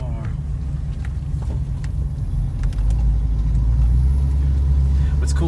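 The engine of a 1975 Datsun 280Z runs with a close, steady low rumble that builds slightly louder, while someone talks over it.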